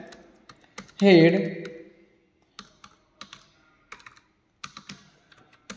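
Someone types HTML code on a computer keyboard, a string of sharp key clicks spread through the passage, with a short burst of speech near the start.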